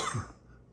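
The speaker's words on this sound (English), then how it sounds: "can someone stop that coughing?" A single short cough, close and fairly soft, fading quickly into quiet.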